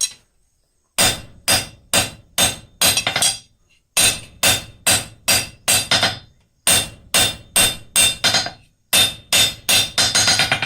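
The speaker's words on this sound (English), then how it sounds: "we're just planishing this up." A blacksmith's hammer planishes forged steel on an anvil in sharp ringing strikes, delivered in fast bursts of four to six blows separated by short pauses, loud and close with no voices.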